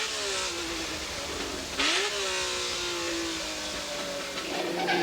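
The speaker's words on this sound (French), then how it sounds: "Passage de la chicane nord par Lindsay Jones, le V12 émet un chant superbe lorsque le pilote rétrograde" A Ferrari V12 race car at a 1990 vintage Grand Prix, downshifting through a chicane. It howls loudly and close, its pitch dropping, then surging sharply upward as it blips through a gear change.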